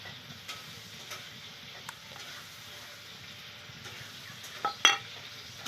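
Small pieces of fine baliya fish are mixed with dried red chilli paste, mustard paste and ground cumin-coriander paste, producing quiet, soft stirring and squishing with scattered light clicks and one sharper knock near the end.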